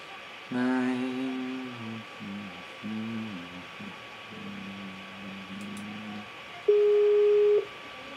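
A telephone line sounds while a call is being placed: a series of short electronic tones and warbling beeps, then a steady pure tone for about a second, faint and alone in a quiet room.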